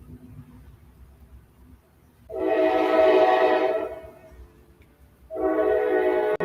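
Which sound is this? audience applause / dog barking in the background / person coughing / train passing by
train passing by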